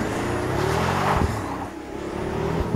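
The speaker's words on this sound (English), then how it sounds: "The engine is a bespoke 6-litre twin-turbo V12, courtesy of AMG" A Pagani Huayra with a bespoke 6-litre AMG twin-turbo V12 roars close by, with a steady engine drone that swells and shifts pitch as the car drives past, with no talk.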